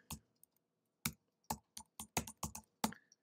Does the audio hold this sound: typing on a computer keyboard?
yes